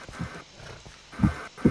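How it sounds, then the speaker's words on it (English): A donkey in a Minecraft horror map makes soft, muffled clip-clop hoof sounds, a few low thuds spaced irregularly, fairly quiet and close, with no talking. "Ooh, donkey. Why the donkey still alive?"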